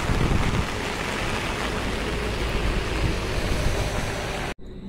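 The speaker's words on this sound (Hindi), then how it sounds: "चारों तरफ बस बारिश ही बारिश है।" Heavy rain pours down across a village in a dense, unbroken roar that fills the scene loudly for several seconds before cutting off abruptly, with no voices.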